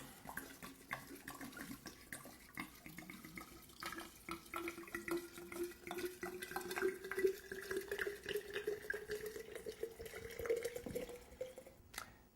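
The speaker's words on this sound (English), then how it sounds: "So I've got a liter of vodka here, and I'm just going to pour this in." Vodka pours steadily into a jar, the gurgling tone rising in pitch as the container fills, then stopping abruptly.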